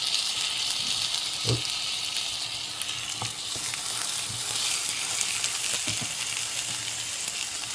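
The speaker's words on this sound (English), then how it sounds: "There you go, nice sizzle." Steady, bright sizzling of eggplant fritters frying in hot oil, constant and close, with a few soft knocks of utensils.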